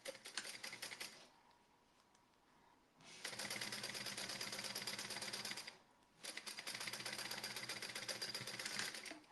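A sewing machine stitches along the folded edge of a fabric seam in two long, steady runs of rapid mechanical chatter. The runs are split by a short pause, with no voices.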